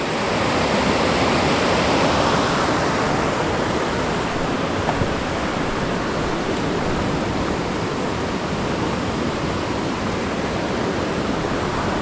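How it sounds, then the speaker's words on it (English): The McCloud River rushes steadily nearby, a loud, unbroken broadband roar of flowing water with no voices over it. "this is the McCloud River"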